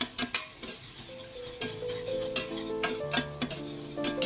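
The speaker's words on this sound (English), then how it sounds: "Put garlic in a pan and fry until fragrant." Garlic frying in a pan for Vietnamese green chili fried rice: a light sizzle under clinking metal stirs and scrapes, with a faint steady hum behind. No voices.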